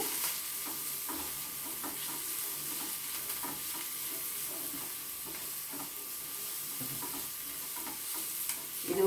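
Garlic paste, cashews and green chilli sautéing in a pan, a steady hissing sizzle with intermittent soft stirring scrapes, close and fairly quiet, with no voices.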